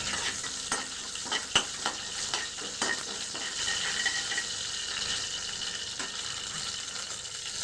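Fennel seeds frying in hot oil give off a steady, close sizzle, broken by sharp stirring clicks and scrapes of a spoon against the pan, with no one speaking.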